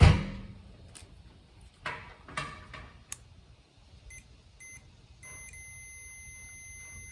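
A few faint clicks and taps, then short electronic beeps from a multimeter that settle into a steady high tone, quiet and close.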